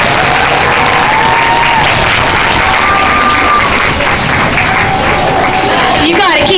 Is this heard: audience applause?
yes